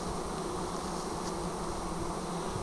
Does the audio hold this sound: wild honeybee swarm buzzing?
yes